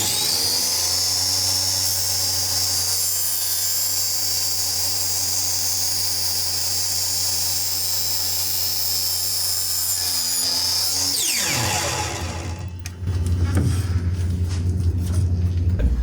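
A chop saw cuts through pipe for a potato cannon with a loud, steady high-pitched whine for about eleven seconds, then spins down and gives way to rougher clattering noise.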